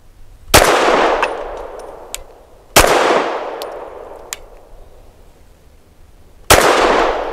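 Three shots from a Walther P99 AS Final Edition pistol crack sharply at uneven intervals, each followed by a ringing clang from struck steel targets, with fainter distant pops between them.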